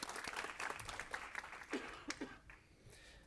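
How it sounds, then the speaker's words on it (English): Applause from a board of education meeting audience, a moderate patter of clapping that fades out toward the end, with a cough or murmur mixed in. "We'll give him a round of applause anyway."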